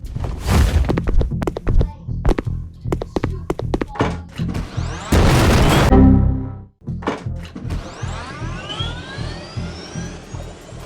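Gunfire from a war effects pack in an indie video game rattles in sharp rapid shots with thudding dust impacts, then gives way to a loud sustained burst and more scattered firing.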